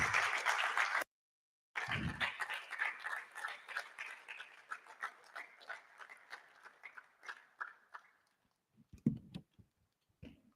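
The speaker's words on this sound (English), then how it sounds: "let's welcome him with a round of applause" Lecture hall audience applauding to welcome a speaker at a college president's public lecture, a brief burst, a short gap, then sustained clapping that thins into scattered individual claps before fading out.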